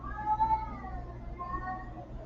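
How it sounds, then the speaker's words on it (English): A house cat meows loudly and persistently in a drawn-out, wavering call, somewhat distant and muffled under a low steady hum. "she's like really meowing loud too"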